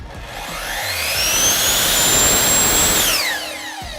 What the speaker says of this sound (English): the electronic blade brake stops the blade in action in a matter of seconds